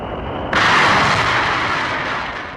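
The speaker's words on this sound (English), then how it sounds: "The escape rocket takes the capsule away from the booster." A Mercury capsule's escape rocket fires to pull it off an Atlas booster, a sudden loud blast that swells into a sustained, heavy roar and slowly eases, with no voices.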